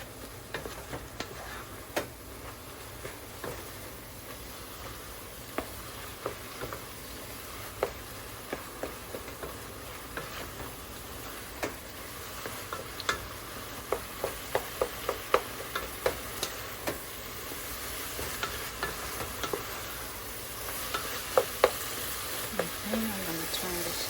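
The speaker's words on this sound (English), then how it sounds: "I'm gonna stir that through" Taco filling frying in a pan with a soft, constant sizzle while a utensil taps and scrapes through it in scattered clicks, close by and fairly quiet.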